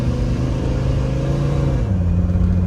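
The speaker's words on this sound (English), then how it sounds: "we're gonna pull out so you guys can hear this and you can feel the shifts" A Mercedes W126 sedan pulls away with a steady, loud engine rumble close by, its revs climbing and then dropping at one clear automatic gear shift before building again.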